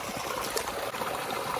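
The Narmada river flows as a steady stream in a forest, a continuous close trickling and gurgling rush of water heard alone without voices.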